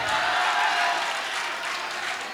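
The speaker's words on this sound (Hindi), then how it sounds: "एक बार चाहती हूँ कि जोरदार ताली चच्चक के लिए बजाएं।" Steady broadband applause from an audience at an All India Mushaira poetry gathering in Jalalabad, a dense continuous patter of clapping that holds at an even level throughout.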